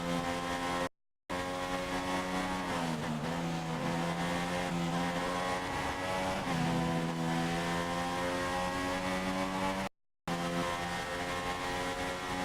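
A Red Bull Formula 1 car in the racing game F1 2016 screams at full throttle, its high engine whine rising and falling through gear changes, loud and continuous apart from two short silent gaps.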